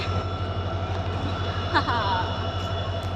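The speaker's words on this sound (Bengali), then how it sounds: "আর দেখো এই যে ট্রেন এখানে ছেড়ে দিয়েছে" A train pulls away from a railway station with a steady low rumble and engine drone, and a brief high squeal midway, under faint background voices.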